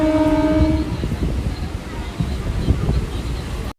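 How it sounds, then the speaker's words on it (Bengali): A cartoon train sounds a horn with a tonal blast, then rumbles along steadily for a few seconds before cutting off abruptly. "ট্রেনটায় কিন্তু কে যেন নামল না, আবার ছুটে গেল এক অজানা গন্তব্যের দিকে"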